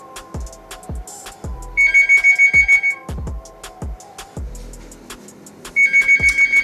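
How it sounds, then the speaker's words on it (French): A telephone rings in loud, repeated electronic bursts: two rapid trilling ring sequences stand out over a busier electronic tone pattern, with no talking. "le téléphone a sonné"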